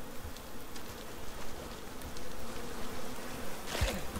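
Bees buzz around a nest in the survival game ICARUS, a steady insect drone holding through the clip at moderate level, with a sharp brief sweep near the end.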